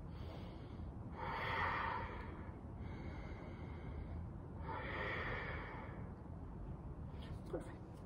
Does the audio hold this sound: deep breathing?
yes